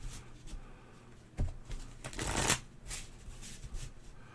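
Playing cards shuffled by hand during a solo session of the card game Kingdom Legacy, riffling in several close, papery bursts with brief pauses between them and no talk over them.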